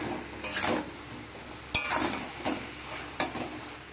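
Vegetables and spices sautéing together in a pot with salt while being stirred: soft sizzling runs under a few spaced ladle scrapes and one sharper clink against the pot.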